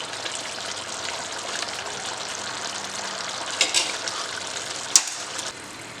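Chicken for Peshawari chicken curry frying in oil, a steady close sizzle and crackle running throughout with a few sharper pops and spits near the end.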